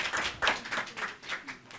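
Scattered applause and clapping from a small crowd at a school board meeting, a burst of claps rising and fading over a couple of seconds, with no speech.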